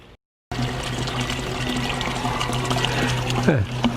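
Water poured into a 4x4-foot, 16–18-inch-deep false-bottom garden bed outdoors at a garden in Waimanalo, a steady rushing splash that continues without break and ends in a brief gurgle.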